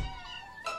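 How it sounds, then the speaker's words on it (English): A kitten lets out a brief, thin meow, close and fairly quiet, lasting under a second with no talking. "You be sure to find the kittens a good home, Tubby."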